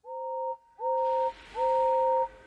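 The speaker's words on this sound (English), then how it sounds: "Far away, but getting louder and louder, was the sound of an engine's whistle." Three two-tone steam whistle blasts, each longer and louder than the last, clear and distant-sounding with a faint background hiss.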